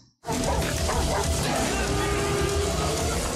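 Puppies in a movie scene yapping and whimpering loudly and continuously after a sudden start, mixed with a dense, busy background.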